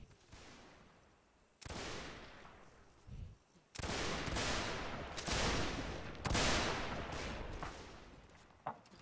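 A musket volley in a multiplayer war game: several loud, ragged bursts of massed rifle fire roll out one after another, each decaying with a long echoing tail, separated by brief lulls.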